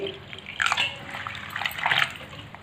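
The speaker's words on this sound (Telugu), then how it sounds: "ఇలా సరిపడా నీళ్ళు పోసుకుని మనం" Water is poured into a bowl to soak sorrel leaves with tamarind. It makes soft splashing and trickling bursts at close range, faint overall, with no talking.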